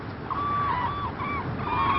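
Black-necked cranes in Bhutan give loud, trumpeting honks, several drawn-out calls in a row over a steady outdoor background.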